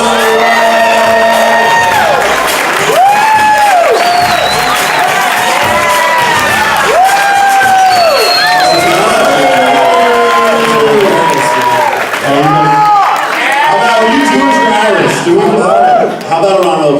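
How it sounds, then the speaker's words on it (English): Live stand-up comedy audience cheering, whooping and shouting loudly and continuously for a comedy duo, with crowd voices throughout. "Please put your hands together for the magnificent Sklar Brothers!"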